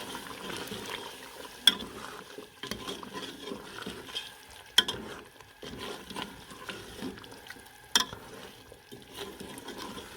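Boiled mutton being sautéed and stirred in a pan for shahi korma, with a steady soft sizzle and regular scraping strokes punctuated by a few louder clanks of the spoon, quiet and without speech.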